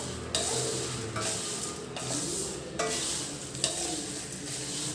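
Ingredients dry roasting in a pan over a low flame give a steady soft rustle and crackle, with periodic louder scrapes as they are stirred, close and continuous with no talk.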